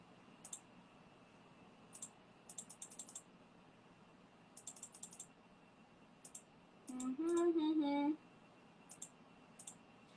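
Scattered bursts of light clicking from a computer keyboard, typed in short irregular runs, with a brief voiced sound in the middle and a steady low hum underneath.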